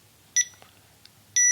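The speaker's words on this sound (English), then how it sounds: "listen for the long beep and release" Short electronic startup beeps from a confined-space gas monitor: a bright tonal chirp, a faint blip, then a louder sustained beep starting at the end, in near silence.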